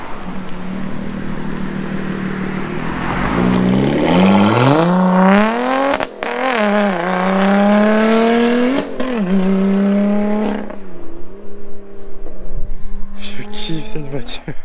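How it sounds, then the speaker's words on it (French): A Lotus Exige V6 sports car pulls away at a supercar rally gathering, its engine loud and close as the revs climb through several rising pulls, then settle and fade. "on va filmer le départ de l'Exige"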